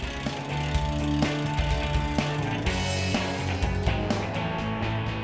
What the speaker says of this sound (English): the operator to hand crank the mast upright